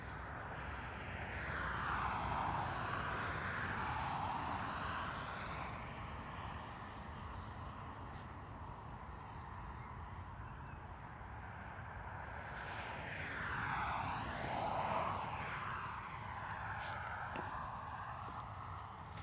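A passenger jet takes off from runway 10 right at Dublin Airport, its engine roar heard at a distance swelling and fading in broad sweeps as it passes, with a faint steady background throughout.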